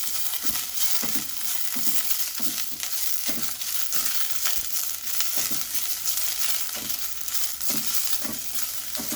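Curry leaves sizzle on a hot tava in Mangalorean Konkani home cooking, giving a steady, dense crackle with regular scraping and stirring knocks throughout.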